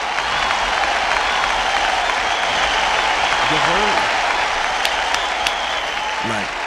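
A burst of applause, a dense wash of many clapping hands, plays steadily for several seconds as a tribute to Lucid Motors, with a few faint tonal blips breaking through.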